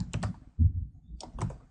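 A few quick bursts of computer keyboard typing as an address is entered, soft close clicks in two short clusters separated by a brief thud, in an otherwise quiet room.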